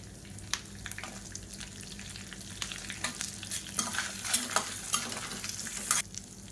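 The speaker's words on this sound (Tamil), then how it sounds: "இப்போ எல்லாமே லேசாக வதங்க ஆரம்பிச்சிருச்சு." Red chillies, curry leaves, ginger and green chillies fry in a pan with a steady crackling sizzle, punctuated by sharper pops and stirring clinks that grow busier toward the end, close and without talking.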